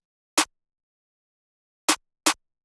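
Trap drum pattern in FL Studio with the bounce placed on the beat right after: a single sharp, bright hit, a long gap, then two quick hits close together, clean and dry with no speech.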